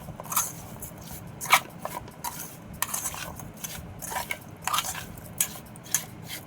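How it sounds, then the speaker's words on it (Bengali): Amra (hog plum) being mixed by hand in a bowl with sugar and cumin powder, giving soft, irregular squelching and scraping with a few light clinks against the dish, close and fairly quiet, with no talk. "এর মধ্যে এবার দিয়ে দিচ্ছি এগুলো, দিয়ে এটাকে আবার ভালো করে মাখাবো।"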